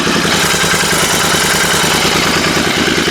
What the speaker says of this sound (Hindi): तो गाइस ये आ रही है कुछ इसकी idol sound with DB killer के साथ